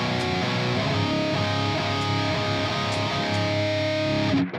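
Distorted electric guitar chords through the Audio Assault Hellbeast V2 amp simulator ring out, sustained and loud, changing a few times before cutting off abruptly at the end.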